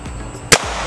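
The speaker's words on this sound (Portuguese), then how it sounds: "Vamos para o segundo disparo." A single sharp, close shot from a CBC B19X gas-ram air rifle firing a heavy 1.27-gram pellet, a brief crack standing out from a quiet room background.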